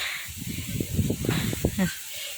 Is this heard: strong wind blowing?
yes